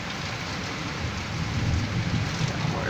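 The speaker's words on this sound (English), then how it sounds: "Horizontal rain." Heavy rain lashes down in a severe storm that may be spawning a tornado, wind swirling and changing direction so the rain blows sideways; a steady, close, dense roar with surges and low rumbling gusts, no talking.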